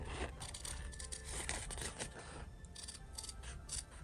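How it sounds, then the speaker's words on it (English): Scissors snip steadily through small fabric scraps for a Christmas angel craft, a close run of crisp, rapid cutting sounds with no talk. "Now cut this out from here."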